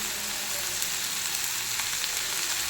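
Chopped spinach sautés in a frying pan, giving a steady, soft hiss and sizzle with faint crackles, close and alone without talk.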